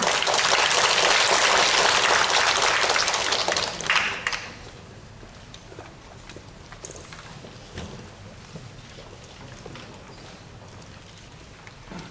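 An audience at a Kaohsiung Zheng clan association gathering marking Koxinga's birthday claps loudly for a folk singer and pianist for about four seconds, then the room falls to a quiet murmur.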